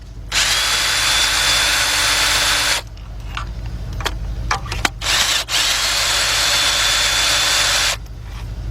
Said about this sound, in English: So I'm gonna get my 3/8 drive gun now.